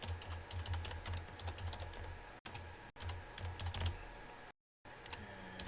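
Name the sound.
typing C++ code on a computer keyboard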